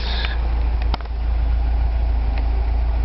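A 1982 Toyota pickup's 22R engine runs at a steady idle with a continuous low drone and faint ticking rattles, heard close and alone.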